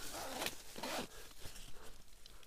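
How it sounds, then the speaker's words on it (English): Tent zippers on a camping trip, several quick close rasping pulls in bursts, then softer fumbling and rubbing of fabric. "it's got zippers up here"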